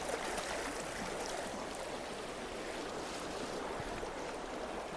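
A small stream flows steadily with a broad, continuous rush of water that holds an even level throughout, with no talking.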